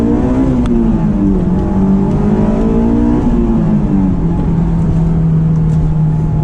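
A Honda S2000 AP1 or AP2 sports car accelerates hard, its engine note climbing steadily in pitch, briefly dipping at a gear change, then rising again, loud and close throughout with no talk.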